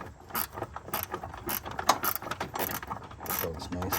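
Ratchet wrench tightening a battery terminal bolt on a 2015 Subaru Forester, a rapid run of close, crisp clicking strokes in regular bursts of swings throughout.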